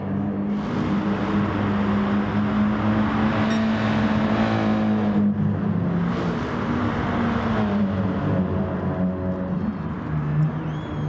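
Race cars lapping Laguna Seca in a racing video game, engines droning and revving continuously with pitch rising and falling through gear changes, loud and steady with no talking.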